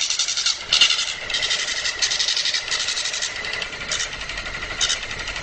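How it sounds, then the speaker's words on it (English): A voting machine runs its self-test and starts up, giving a steady mechanical whirr with a rapid, regular chattering pulse like a small printer motor, punctuated by brief louder surges, close and continuous with no talk. "The machine is going through a self-test analysis, and then it will spontaneously turn on."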